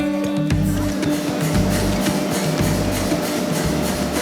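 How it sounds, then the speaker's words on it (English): Steady mechanical clicking and thumping of sanitary pad making machines in a factory, a regular rhythm over a constant industrial hum, close and fairly loud. "That clicking sound that you hear is not just a factory in operation"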